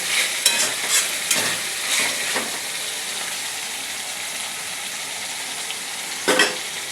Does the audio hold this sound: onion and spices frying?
yes